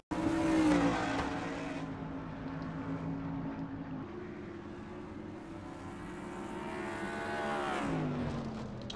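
Race trucks in a simulated NNSCRA Truck Series event at Flemington, their engines droning with a steady pitch and a sustained roar that swells toward the end, continuous and fairly near, with no talk over it.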